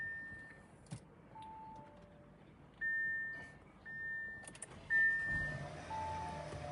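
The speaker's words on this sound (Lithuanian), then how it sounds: "Taip, mašiniukas užsiveda" A 2019 Audi Q7 3.0T Premium Plus with 153,000 miles sounds several soft electronic chimes, then its engine starts with a low swell and settles into a quiet idle.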